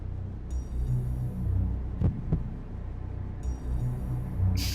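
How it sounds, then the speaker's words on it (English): Heartbeat sound effect in the video game Digital Devil Saga, low soft throbbing pulses under a steady hum, with a pair of sharper thuds near the middle and faint high tones drifting in and out. "the heartbeat sound effect is out of sync with the vibration"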